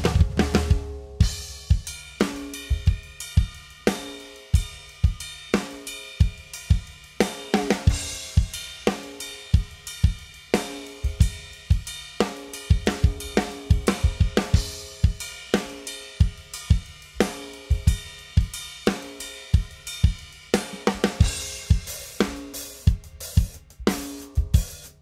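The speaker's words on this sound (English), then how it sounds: "In the bass and snare drum pattern in 5-8." Drum kit playing a bass and snare drum groove in 5/8 time, with steady punchy kick and crisp snare hits repeating in an odd-metered cycle throughout, loud and close with no talking.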